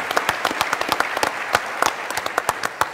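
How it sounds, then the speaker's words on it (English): An audience at a civil forum on orphans and adoption gives sustained applause, many hands clapping in a dense wash with sharper individual claps standing out nearby. "That's worth clapping for."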